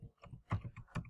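Keys tapped on a computer keyboard while typing folder names, a quick run of about eight close, light clicks in an uneven rhythm, with no voice over them.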